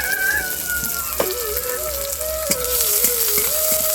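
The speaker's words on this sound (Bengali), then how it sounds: "পেঁয়াজটা একটু ভাজা ভাজা হয়ে যায়" Chopped onions fry in hot oil for a Bengali fish curry, a steady close sizzle running the whole time beneath a thin wavering tonal whine, with no voices.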